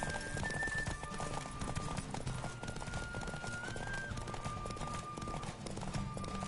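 Rapid rhythmic hoofbeats of a galloping horse in the video game The Witcher 3, steady and continuous, over faint background music with a few rising tones.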